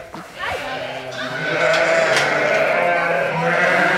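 Sheep bleat repeatedly during evening feeding in a lambing shed. The calls overlap, sit close and loud, and carry on steadily through the whole stretch.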